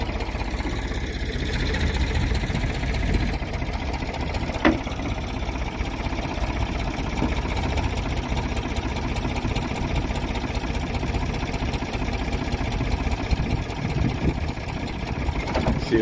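Diesel engine of a Ford 555B 4x4 backhoe loader with Extend-A-Hoe running steadily and smoothly, a continuous close rumble throughout with one brief clank partway through.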